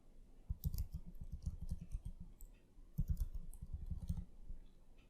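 Keys clatter on a computer keyboard while a root password is entered, two quick bursts of close, light tapping separated by a brief pause.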